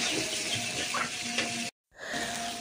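Onions sizzle and fry in a pan for a jackfruit curry, a steady close crackling hiss that drops out briefly before resuming.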